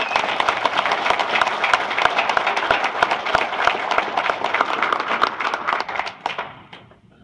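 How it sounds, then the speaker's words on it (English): An audience gives Alan a round of applause: loud, crisp clapping from a crowd, sharp individual claps standing out in a thick, even patter that keeps going, then thins out and fades away over the last second. "So y'all please join me in giving Alan a round of applause."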